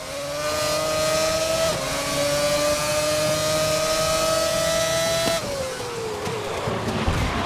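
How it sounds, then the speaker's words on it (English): A Renault F1 R26 racing car engine in the video game GRID roars steadily at high revs, its pitch climbing and then dropping through gear shifts, loud and continuous with no talking. "I just wanted to give you guys just a few seconds there to hear the game sounds, the engine sounds"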